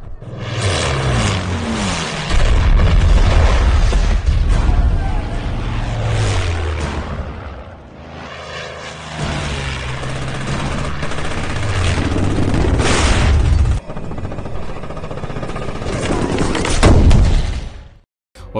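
Military aircraft attack German forces in Tunisia during World War II in a film battle scene: loud, roaring aircraft engines mixed with bursts of gunfire and heavy impacts, sustained and dense throughout.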